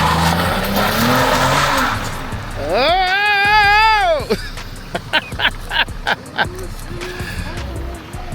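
A Chevrolet Impala spins its tires, letting out a loud, wavering squeal of about a second and a half after a stretch of engine noise, followed by sharp knocks and an excited shout.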